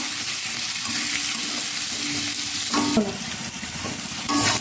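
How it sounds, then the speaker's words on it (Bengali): Potatoes fry in hot oil in a pan, a continuous close sizzle with occasional scraping stirs and a brief clatter near the end, no voices. "আলুটা দিয়ে ভালো করে ভেজে নেব"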